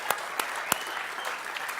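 A live audience gives a brief burst of applause for a comedian's wife, with a few sharp distinct claps standing out over a dense, steady patter.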